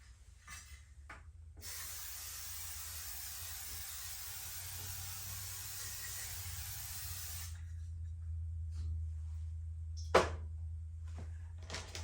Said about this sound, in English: I'm going to spray it with nonstick spray and coat it with flour